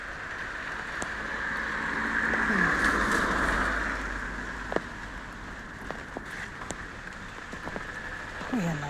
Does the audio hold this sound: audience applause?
no